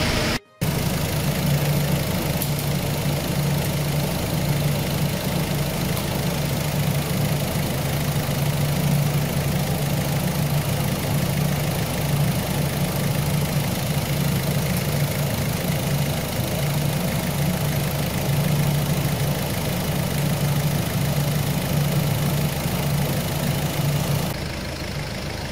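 A Ford C-Max 1.6 TDCi diesel engine with a hunting idle runs close by, a steady knocking diesel clatter that holds for the whole stretch after a brief dropout at the start.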